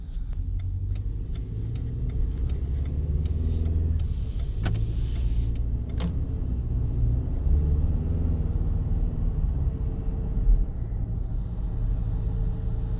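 Cabin of a 2019 Ford Ranger XLT pickup truck while driving, a steady low engine and road rumble with a few faint ticks and a brief higher whir midway, no talking.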